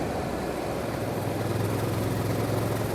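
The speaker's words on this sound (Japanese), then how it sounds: "6速は6速で結構このような状態でスロットル開けていくと、音からも分かる通りドドドドドっていう感じで" A Yamaha MT-07 twin-cylinder motorcycle under 700cc, in sixth gear with the throttle opening, gives a steady, loud, low rumbling drone that holds throughout without a break.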